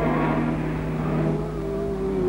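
Jaguar E-Type and other 1963 race cars run a circuit with a steady, loud engine drone that holds through the whole short span. Tones shift gently as the cars pass, and no one speaks over them.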